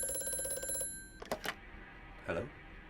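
A telephone rings in the video game Amnesia: A Machine for Pigs, a steady electronic bell trill for under a second, followed by a few brief clicks and a faint murmur.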